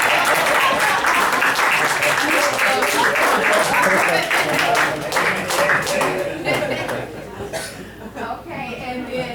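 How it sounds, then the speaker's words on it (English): Applause from the audience at an annual holiday health event rises as a full, close wash of clapping and then gradually thins and fades, with a few chuckles and murmurs mixed in. "you can give me an applause too"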